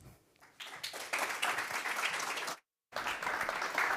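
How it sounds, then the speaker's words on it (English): A tech conference audience welcomes two speakers with applause, building from a few scattered claps into a full, dense round, briefly cutting out to silence before the clapping resumes just as strongly. "give a welcome applause for Lara and Beatrice"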